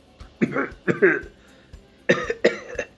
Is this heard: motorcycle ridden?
no